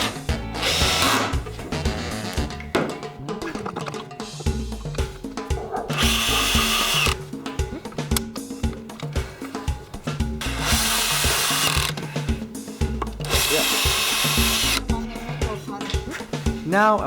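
A power drill drives short screws into a wooden bench, with several loud, sustained whirring bursts between pauses of handling noise and clatter. A voice is faintly present at times.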